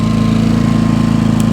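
A Predator engine runs steadily at high idle, a loud, close, even drone with a fast regular pulse throughout.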